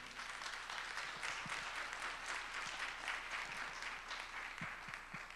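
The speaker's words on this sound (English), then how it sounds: "Would you give them a round of applause?" An audience at a city council meeting applauds a youth jazz ensemble, a steady wash of many hands clapping, moderately distant and even throughout.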